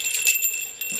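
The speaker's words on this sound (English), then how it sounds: "bells, you hang them on doors, entranceways, things like that" Small metal protective bells hung by doors and entranceways, a bit scratched, give a brief bright tinkling jingle that rings on softly and close up, with no talk.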